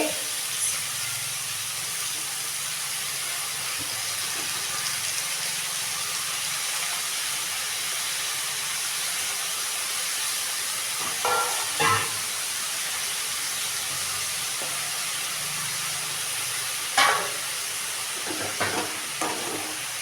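Ridge gourd and moong dal sautéing in a pan, a steady soft sizzle and hiss throughout with a few brief clinks of a spatula against the pan, no voices.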